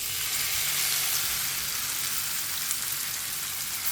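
Okra in masala fries in a pan with a steady, loud, close sizzle. The crackle is continuous and even, like hissing rain, and nobody speaks.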